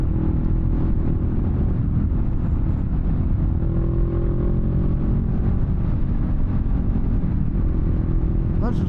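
A 2022 Honda Rebel 500 ABS runs while being ridden, its engine a steady, fairly buzzy drone under wind rumble throughout, with a brief rising tone near the end.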